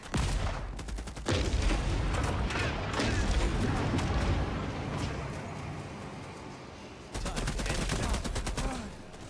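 Gunfire in The Expanse: Osiris Reborn pours out in dense, rapid volleys, loud and sustained, then pauses briefly before another burst of rapid shots.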